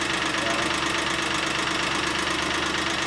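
A Geo car engine idles steadily after new lifters were installed, giving a loud, continuous mechanical clatter with a fast, even ticking rhythm close by, with no talking.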